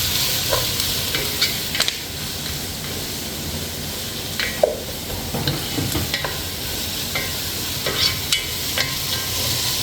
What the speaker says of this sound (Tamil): கொஞ்சம் நான் தாராளமாக கருவேப்பிலை போடுவேன். நல்லா வதக்கிட்டு